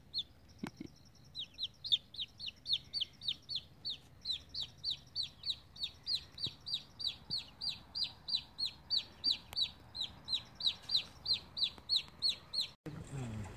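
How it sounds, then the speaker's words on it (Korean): A chicken clucks in a long, regular run of quick repeated calls, steady and fairly close, over a quiet rural morning background. "우리 집에 꼬꼬가 지금 뭐 하는가 보세요."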